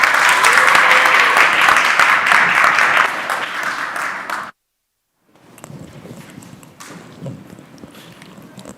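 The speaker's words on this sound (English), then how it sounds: "please give her a round of applause as she comes up and leads us" An audience at a morning community summit claps loudly for several seconds, the applause thinning out and stopping, followed by quieter room noise and shuffling.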